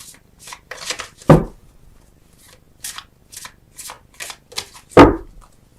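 A deck of tarot cards being shuffled and handled in short bursts of riffling and flicking, with a couple of sharper snaps standing out, close and fairly clear.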